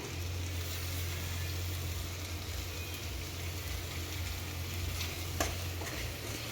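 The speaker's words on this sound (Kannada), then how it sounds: "ಫೈನಲಾಗಿ ಕೊತ್ತಂಬರಿ ಸೊಪ್ಪು ಹಾಕ್ತಾ ಇದ್ದೀನಿ" Paneer pepper dry sizzles steadily in a pan as coriander leaves go in, a continuous soft frying hiss with faint stirring and one small clink near the end.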